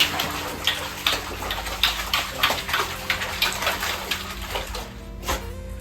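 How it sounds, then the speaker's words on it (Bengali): A dog swims and paddles in a bathtub, giving steady close splashing and sloshing of bath water in repeated bursts, with no talk. "এই যে দেখো এখন ডোডো সাঁতার কাটছে।"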